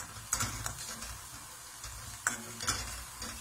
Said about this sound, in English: Keep that stirring going.